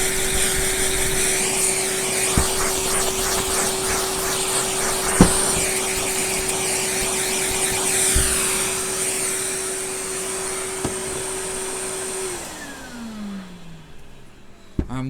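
A vacuum cleaner runs steadily and loudly, cleaning dust off a mucky Hoover Junior Dirtsearcher upright, a constant drone with a few small knocks before the motor winds down and stops near the end.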